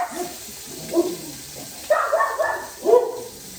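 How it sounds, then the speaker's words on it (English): A household dog, one of a German shorthaired pointer and two miniature dachshunds, barks while traveling on the road: three loud, close barks spaced about a second apart, with no talking. "Oh, there goes the dog."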